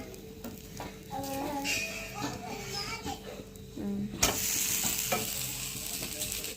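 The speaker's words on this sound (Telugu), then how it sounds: "ఒక పక్క చట్నీకి అయితే పల్లీలు ఫ్రై చేస్తుంది" Peanuts frying in a pan for chutney sizzle steadily while a spoon stirs, with people talking nearby and a louder hiss rising toward the end.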